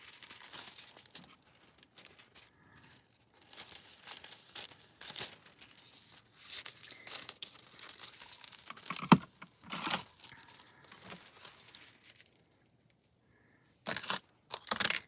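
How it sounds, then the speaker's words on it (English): Hot foiling foil is cut and handled up close, giving soft crinkling and snipping rustles in quiet irregular bursts with short pauses between, and no speech. "I'm going to cut another piece of foil here."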